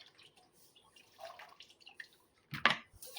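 Chicken being washed with water gives faint, sparse drips and trickles, then a short, close burst of splashing water near the end.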